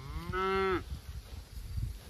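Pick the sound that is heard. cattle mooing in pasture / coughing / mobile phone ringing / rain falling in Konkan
cattle mooing in pasture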